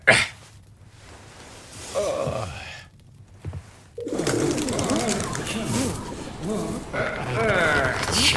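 Pigeons cooing close by, soft throaty warbling coos repeating over a steady outdoor background, with voices talking quietly now and then.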